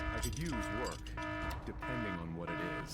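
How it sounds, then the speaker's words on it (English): An electronic alarm tone sounds at a Pinball FX3 open challenge tournament to signal ten minutes remaining, a steady repeating buzz running beneath continuous close conversation. "That is just our alarm letting everyone know there are 10 minutes remaining."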